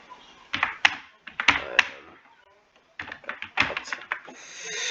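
A name is typed on a computer keyboard in two quick bursts of close, crisp key clicks separated by a short pause.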